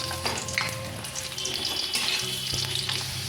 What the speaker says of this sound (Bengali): এই তেলেই আমি আলুগুলো ভেজে নিচ্ছি।